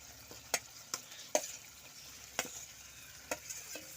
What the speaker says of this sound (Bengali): এবার আমি এঁচোড় চিংড়ি আর আলুটা দিয়ে আরো কিছুক্ষণ ভালো করে কষিয়ে নেব।